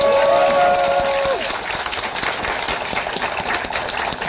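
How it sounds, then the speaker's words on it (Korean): Audience at a conservative political rally in Korea breaks into applause, sustained clapping from a crowd that continues after a tone fades at the start, fairly loud and even. "우리 박수 한번 칠까요?"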